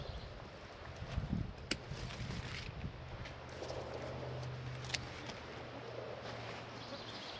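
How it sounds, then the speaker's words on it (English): Wind buffets an outdoor microphone in a vineyard among high-cordon grapevines, a low steady rumble with a few light rustles and clicks, no speech. "Hopefully this wind isn't messing with the audio."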